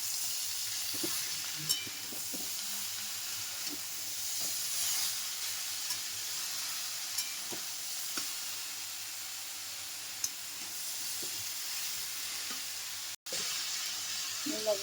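Vegetables poured into a pan of frying fish sizzle with a steady, bright hiss, and soft clinks and stirring sounds come through now and then.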